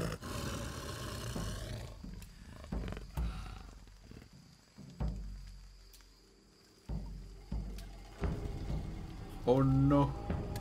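A big cat in the video game Tomb Raider 3 roars and growls in several separate bursts over game ambience, ending with a louder, rising snarl, while a player talks intermittently.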